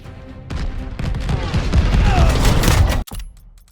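Dense, continuous gunfire crackles and thumps during a dive-bombing run in Call of Duty Vanguard's Battle of Midway mission, bullets rattling against the plane, loud and sustained before cutting off abruptly near the end.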